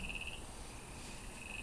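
A frog croaks in a faint, steady trill that runs through the whole short stretch, with a thin high ringing tone throughout and no voices.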